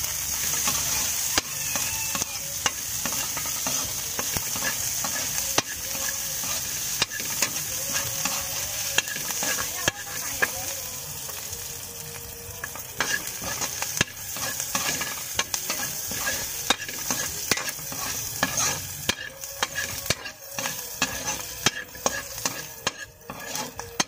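Onion and ginger fry in a little oil in a pan, producing a continuous crackling sizzle with frequent sharp stirring scrapes of a utensil throughout, close and fairly loud.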